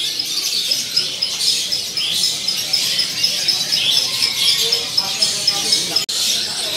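A caged white-rumped shama (murai batu) at a bird shop sings in continuous bright, high warbling and chirping phrases, close and steady for several seconds with faint background murmur.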